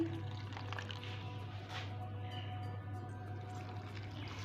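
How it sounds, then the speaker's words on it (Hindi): A cup of hot water poured onto jelly powder in a home kitchen, a soft continuous trickle and splash over a steady low electrical hum. "अब मैं इसमें 1 कप वाटर डालूँगी।"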